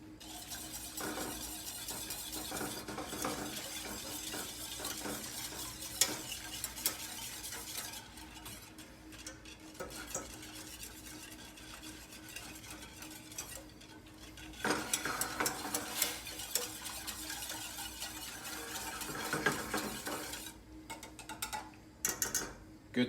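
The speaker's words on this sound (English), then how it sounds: "This is a good whisk for gravy" A whisk stirs a lemon tart filling in a pot, producing continuous close scraping and clicking strokes in an uneven rhythm, fairly quiet, with no talk.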